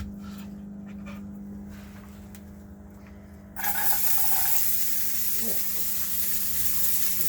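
Onions frying in oil in a pot aboard a narrowboat, a steady close sizzle that jumps louder about halfway through and then holds as a dense hiss to the end.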